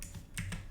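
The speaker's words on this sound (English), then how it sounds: "I'm typing" A few quick, soft clicks of keys on a computer keyboard sound close by during command-line work, a brief burst of typing with no talk.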